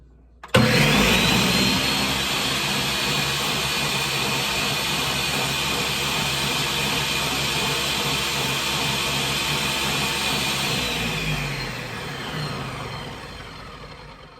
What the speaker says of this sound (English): The best way to clean your blender.